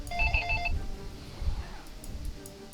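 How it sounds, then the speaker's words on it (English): A telephone rings in a short electronic burst of repeated tones, then stops, leaving a low room rumble and faint background noise. "Phone's ringing."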